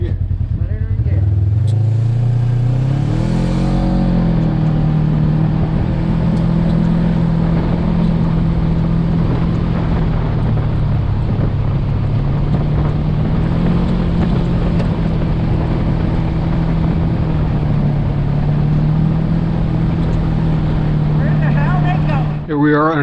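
A Razor 900 Trail side-by-side vehicle shifts into gear and drives off on a desert trail, its engine rising into a steady loud drone with rough wind and road rumble throughout.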